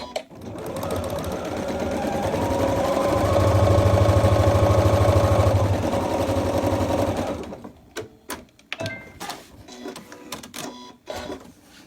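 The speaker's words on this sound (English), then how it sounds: "Last one for this pinwheel, under the machine," A sewing machine stitches pinwheel fabric in one sustained loud run of whirring for about seven seconds, then stops, followed by scattered clicks and handling noises.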